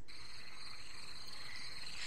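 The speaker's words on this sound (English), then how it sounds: "Oh, it's a frog croaking." Frogs croak in a faint, continuous chorus, a steady buzzing trill that holds evenly throughout without breaks or voices.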